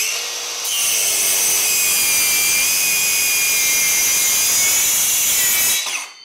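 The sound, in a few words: Dongcheng DCMY125 cordless mini circular saw cutting bengkirai wood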